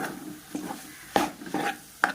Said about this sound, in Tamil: இதையும் நல்லா கிளறி விடலாம்